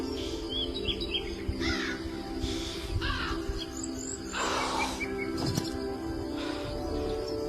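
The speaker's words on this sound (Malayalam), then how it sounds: "നല്ല കാക്ക ശല്യം." Crows caw repeatedly at close range, harsh calls coming in several bursts over a constant background hum, with a few smaller bird chirps mixed in.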